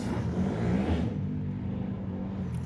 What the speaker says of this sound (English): Sorry about the motorbikes.